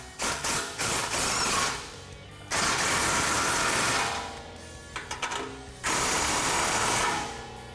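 A ratchet works on the exhaust hanger bolts of a Ford Performance touring cat-back system on a 2017 F-150 Raptor, close clicking in three long bursts separated by short pauses.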